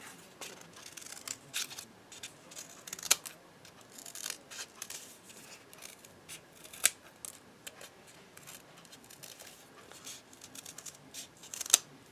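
Scissors trim material for a doll-sized gumball machine, a quiet series of short sharp snips at irregular intervals, close and faint, with soft handling rustle between cuts.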